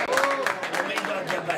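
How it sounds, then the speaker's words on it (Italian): Applause for Mario Colombo at an Italian team's 2012-13 season presentation, a dense wash of clapping filling the short stretch at steady strength, with voices tangled faintly in the crowd noise. "Facciamo un applauso a Mario Colombo"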